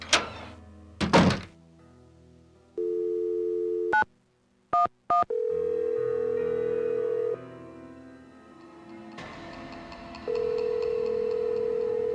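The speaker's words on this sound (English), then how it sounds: "Go ahead and use the phone in the ticket booth." A telephone handset clunks as it is lifted in the ticket booth of a Nancy Drew video game. A steady dial tone follows, then a few short keypad tones and a longer tone that breaks off and returns, all loud and close, with no speech.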